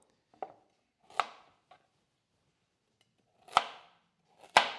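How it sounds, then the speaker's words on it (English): A dull kitchen knife in need of sharpening chops vegetables on a board, giving a few isolated, fairly faint thuds spaced irregularly, with no talking. "That's the sound of a knife in need of sharpening."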